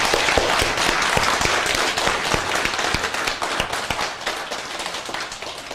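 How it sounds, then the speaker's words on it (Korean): A lecture audience claps together in steady, dense applause that holds at close range for several seconds before slowly thinning out. "박수 한 1분 정도 박수 한번 치고 강의 시작하도록 하겠습니다."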